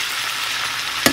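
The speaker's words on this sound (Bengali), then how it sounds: "তো শিমের মধ্যে লবণ হলুদ সব দিয়ে দিয়েছি, এবার ভাজা করে নেব।" Beans seasoned with salt and turmeric sizzle steadily in a hot pan, ending with a short sharp clink of a utensil.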